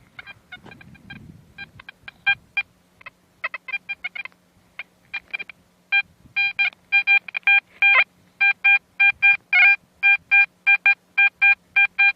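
A metal detector hunting for coins in the soil beeps sparsely and unevenly at first, then settles into a loud, regular run of short electronic tone pulses, close and alone without any voices.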